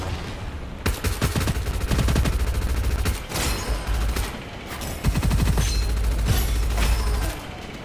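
Rapid gunfire from the shooter game Gunfire Reborn, loud dense bursts of automatic shots and heavy booms in quick succession, with brief pauses between volleys and no talking.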